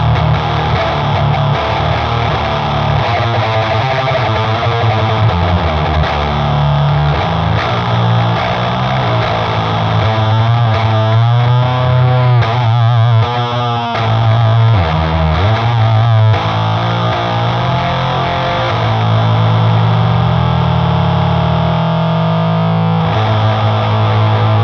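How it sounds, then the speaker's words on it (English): A Boss HM-2 Waza pedal drives an overdrive channel, giving a thick, saw-edged distorted electric guitar that grinds continuously through sustained chords and chugging riffs, loud and dense throughout with no voices. "As much as the HM-2 is already a gain monster, I think it'll be fun to run into an overdrive channel."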